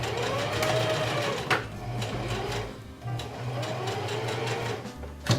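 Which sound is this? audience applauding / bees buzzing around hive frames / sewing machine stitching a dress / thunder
sewing machine stitching a dress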